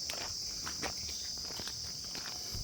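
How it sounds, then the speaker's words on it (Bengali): Crickets chirp in the jungle beside a deer park, a faint steady shrill trill running throughout with soft scattered rustles and steps nearby. "ঝিঝি পোকার আওয়াজ।"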